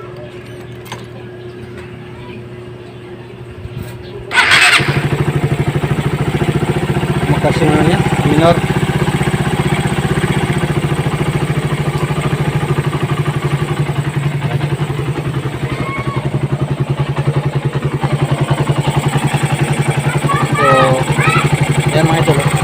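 A Suzuki Raider 150 motorcycle, fresh from a timing chain replacement, starts with a sudden burst after a few seconds of quiet and settles into a steady, close idle. Someone speaks briefly over it.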